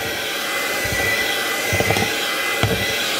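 Electric hand mixer whirring steadily through homemade icing of powdered sugar and a pinch of salt, a continuous motor drone with a few brief knocks of the beaters against the bowl.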